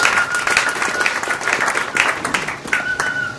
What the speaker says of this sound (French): Est-ce qu'on peut acclamer le Seigneur pour ça?